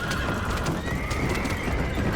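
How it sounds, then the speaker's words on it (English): Horses' hooves clip-clop at a walk along a bumpy road in the video game Red Dead Redemption, a steady, close rhythm of hoof strikes with a faint underlying rumble of the journey. "These poor horses. They've been on quite the journey. This road is bumpy though."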